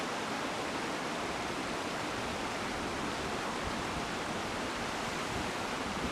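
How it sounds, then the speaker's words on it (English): Muddy water of the Talek River flowing through grassland, a constant dense rushing wash with no breaks, steady and fairly close. "They want to cross this muddy flow of water, but if they're caught in the current, it could be life-threatening."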